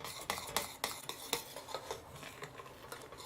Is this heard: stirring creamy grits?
yes